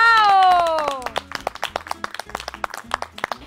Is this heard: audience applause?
yes